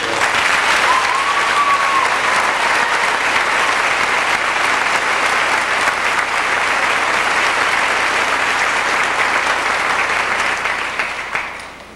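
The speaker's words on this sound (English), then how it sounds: "They need a big round of applause for all their incredible hard work this year." A large audience at a high school event gives a long, sustained round of applause, dense even clapping holding steady for about twelve seconds before starting to taper at the end, with no voices over it.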